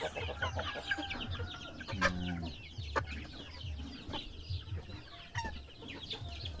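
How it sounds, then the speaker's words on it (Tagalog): Chickens cluck and chatter close by on a mountain farm, with overlapping bird calls and a steady mix of small squawks throughout. "Yung aking mga manok."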